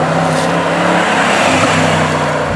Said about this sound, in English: It's also surprisingly exciting to drive, as I shall now demonstrate.